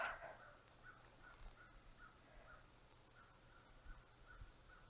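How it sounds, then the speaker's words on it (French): Crows caw in a snowy outdoor spot with trees in mid-April. The calls come as faint, distant, repeated caws in a loose rhythm over quiet ambient noise. "J'aime le son des corneilles."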